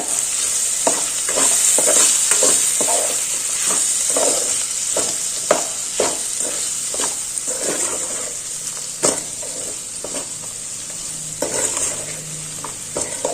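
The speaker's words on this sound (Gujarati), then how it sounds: "એક નાની ચમચી ધાણા જીરું પાવડર મિક્સ કરી દેશું" Coriander-cumin powder being stirred into potato poha frying in a pan: a steady sizzle runs under repeated scraping strokes of a spoon, close and fairly loud, with no talking.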